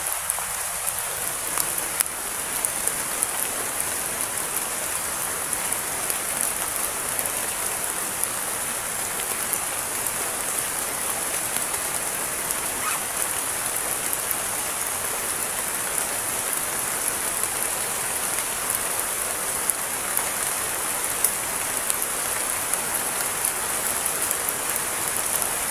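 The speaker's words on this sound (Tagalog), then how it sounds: "Grabe yung ulan mga idol. Sobra na yung mga ulan ba." Heavy rain pouring down in a steady, dense hiss that fills the whole stretch, unbroken and close, with no voices over it.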